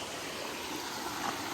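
A village stream in Konkan, swollen after the first monsoon rain, rushes and gurgles steadily nearby in a continuous broad wash of flowing water.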